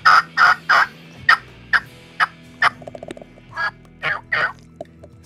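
Turkey call worked by a hunter to mimic a gobble, giving a loud, close series of raspy bursts: three quick calls, then spaced single notes and a softer stuttering run before a final few louder gobbling yelps.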